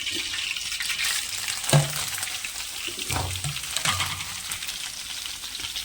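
Dried red chillies, curry leaves, mint and mustard seeds frying in hot oil for a tempering, giving a steady close sizzle with a few sharper crackles and pops, no voices.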